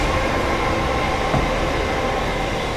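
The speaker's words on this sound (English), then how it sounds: "as a train goes past there." A train rumbles steadily past outdoors, a continuous loud broadband roar with faint rail clatter that holds even throughout.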